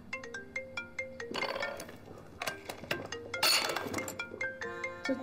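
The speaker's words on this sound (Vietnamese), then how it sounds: "Sao đây, điện thoại của ai đó?" A mobile phone ringtone plays a bright, repeating chime melody, fairly faint, broken by clinking and rustling bursts in between before the tune resumes.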